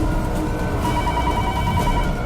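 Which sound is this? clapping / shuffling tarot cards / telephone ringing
telephone ringing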